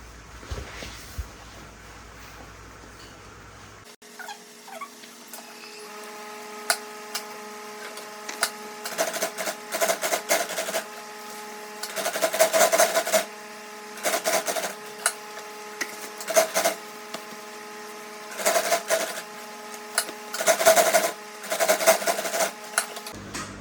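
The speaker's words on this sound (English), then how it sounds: "So now we are going to sew with the lining placed underneath." A sewing machine stitches a bag with its lining placed underneath, running in repeated bursts of rapid mechanical whirring and clatter that start and stop, loud and close, with no talking.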